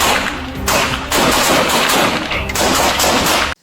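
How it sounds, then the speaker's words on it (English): Police reinforcements unleash a sustained barrage of gunfire at a shooter, loud dense volleys of rapid shots in several waves with only brief dips between them, cutting off abruptly at the end. "we see the reinforcements unleashing a barrage of fire at the shooter"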